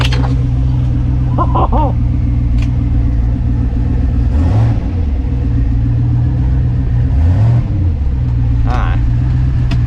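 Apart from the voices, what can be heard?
Winnebago motorhome engine revving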